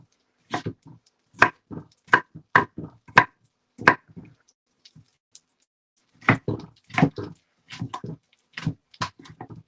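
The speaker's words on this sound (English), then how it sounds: "I'm just roughly chopping the peppers up." Peppers being roughly chopped with a knife on a board while cooking jambalaya, two bursts of sharp rhythmic cuts, close and distinct, with a pause between them.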